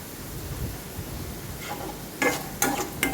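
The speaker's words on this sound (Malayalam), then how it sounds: "ഇത് നല്ലവണ്ണം ഒന്ന് ഇളക്കി ഒന്ന് ചെറുതായിട്ടൊന്ന് വഴറ്റിയെടുക്കണം." Onions are stirred and sautéed in a pan for a spring onion stir-fry: a soft, low frying hiss with a few sharp scraping strokes of a utensil near the end.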